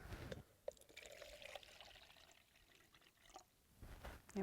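A cup of water pours into a bowl of flour in a quiet outdoor camp kitchen, a soft trickling splash lasting a couple of seconds before fading to faint ambience.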